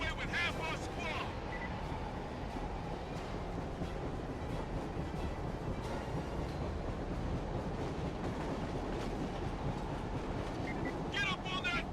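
Steady rumbling of a moving train in Killzone 2, a constant low rolling drone with wind-like noise throughout and a few faint clanks.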